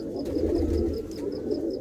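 Pigeons in a loft coo continuously in low, rolling throaty calls, close and fairly loud, with faint brief chirps above and no talking.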